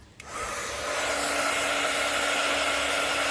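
Hair dryer blowing on a polymer clay piece to set it, a steady loud whooshing roar that switches on after a brief click and holds constant, with no voices.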